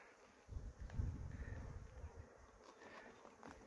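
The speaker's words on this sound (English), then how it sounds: "There's a lot of flies, bees, etc. up here." Insects buzz steadily outdoors, flies and bees droning close by with a faint, continuous hum and occasional nearer passes.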